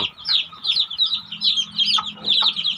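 Newborn chicks in a mosquito-proof nursery cage cheep continuously in a dense, high chorus of overlapping peeps, close and fairly loud, with no talk.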